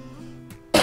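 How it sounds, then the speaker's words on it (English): A single person clears their throat and then gives one short, sharp cough close to the microphone, over faint background hum. "Sorry for the coughing"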